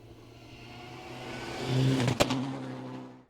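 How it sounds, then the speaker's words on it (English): A rally car engine revs and accelerates through a gear, the tone climbing and growing louder before easing off, heard alone. "Just go for another gear. Keep her going, Watty."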